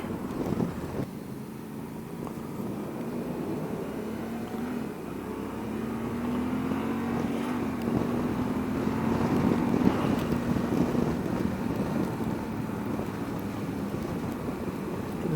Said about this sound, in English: the engine is actually really nice